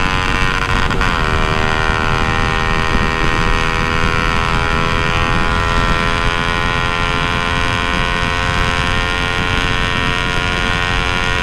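A modified Yamaha MT-15 motorcycle with a loud aftermarket exhaust idles with a deep, harsh rumble and steady drone, a brief rev near the start, continuous throughout with no talking.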